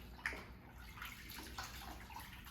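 Water poured and sloshed while rinsing a patient's skin during a partial bed bath, soft and close, with faint trickles and small splashes in a quiet room.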